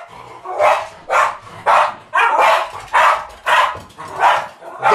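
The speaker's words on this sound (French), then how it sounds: "excusez-moi mon chien, fait sa crise de nerfs" Dog barking in a rapid, regular series of about eight loud, close barks, each sharp and evenly spaced, nervous and agitated, with no talking.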